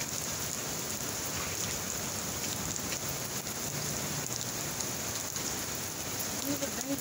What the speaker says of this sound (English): Yeah, it's been raining.